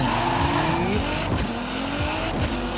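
Nissan GT-R R35 racing downhill at high speed in Forza Horizon 5, a steady loud engine drone with rising gear-change tones and brief tire-squeal streaks, continuous and close throughout.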